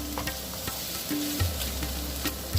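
Chopped onions fry in a pan for aloo biran (spiced potatoes), giving a steady close sizzle and crackle with a few light stirring knocks and no speech.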